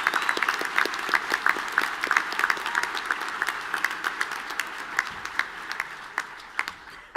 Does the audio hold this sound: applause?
yes